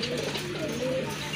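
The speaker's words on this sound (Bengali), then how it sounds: "একদম ফুল ফ্রেশ আর অ্যাক্টিভ কবুতর।" Pigeons at a bird market give low, continuous throaty coos, several birds overlapping close by with no talking.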